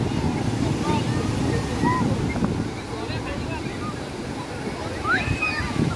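Sea waves breaking at Achra beach on the Konkan coast at high tide on an evening, a steady, close roar of surf with wind buffeting the microphone throughout.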